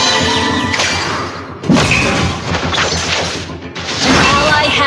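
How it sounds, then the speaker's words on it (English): Turret crumbling in Mobile Legends, a loud crashing smash with thuds and debris amid busy battle effects, while a game announcer voice speaks. "Our turret has been destroyed."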